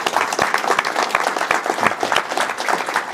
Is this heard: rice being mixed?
no